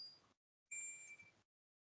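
Phone notification chime sounding twice, a short tone and then a longer sustained ding, clear and close in an otherwise quiet room.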